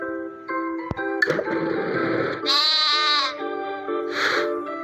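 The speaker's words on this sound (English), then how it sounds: "Sheep." A sheep bleats twice, a long wavering baa followed by a shorter one, loud and close over light background music.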